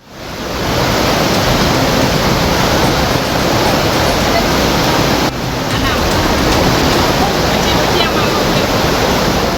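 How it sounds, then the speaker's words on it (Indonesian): Floodwater from the overflowing Batang Kuranji river roars in a loud, unbroken rush through a flooded neighbourhood in Padang, heard close up as dense, steady noise throughout. "Luapan Sungai Batang Kuranji merendam pemukiman warga hingga memutuskan akses jalan"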